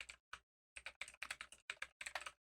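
Fast bursts of typing on a computer keyboard during a Windows PowerShell session, clustered key clicks in quick runs separated by brief pauses, close and clear with no voice.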